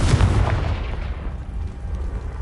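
A Confringo blasting spell goes off in Hogwarts Legacy, a loud booming explosion at the start that rumbles and decays into a long low roar, with no talking.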